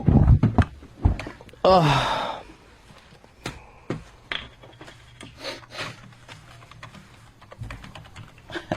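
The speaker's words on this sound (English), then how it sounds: "I can hear my keyboard clicking" Rapid clicking of a computer keyboard being typed on nearby, irregular bursts of keystrokes with a brief rustle and breath in between.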